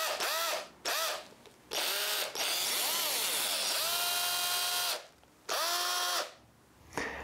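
Parkside PBHA 12 A1 cordless SDS-plus rotary hammer running in repeated bursts, a loud, harsh, high-pitched whine and rattle that starts and stops with pitch rising and falling as it spins up and down, heard alone.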